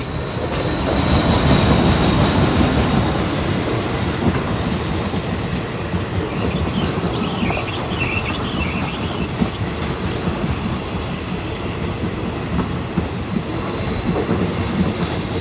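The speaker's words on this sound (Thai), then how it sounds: "วันนี้ทำขบวนโดยอันต้อมนะครับ อันต้อม 4143 นะครับ" An Alsthom 4143 diesel locomotive hauls train 255 near Ban Pong station in Thailand, making a loud, steady close rumble with wheels clattering over the rails throughout.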